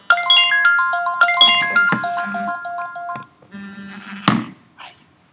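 A mobile phone ringtone plays a bright, quick melodic pattern of repeated chiming notes indoors during a class, followed by a short pause and a single sharp thunk.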